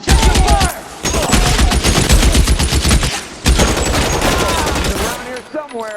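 Rapid bursts of gunfire in the L.A. Noire video game, loud sustained volleys with brief pauses between them and shouting voices mixed in.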